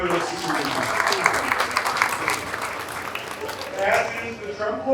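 Applause from a crowd at a county fair opening ceremony, a dense sustained clatter of clapping lasting the whole stretch, with an announcer's voice heard through it.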